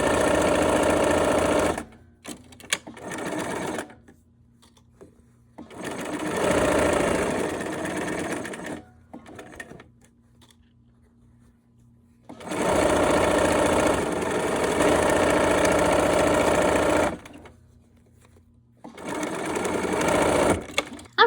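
Sewing machine stitching quilt seams, running in steady bursts of several seconds each with quiet pauses between, close and fairly loud with no talk over it.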